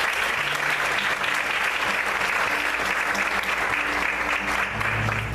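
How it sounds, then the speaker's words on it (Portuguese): A church congregation applauds steadily and loudly throughout, a dense continuous wash of many hands clapping with a low hum beneath and no voices standing out. "Vamos aplaudir mais uma vez ao Senhor."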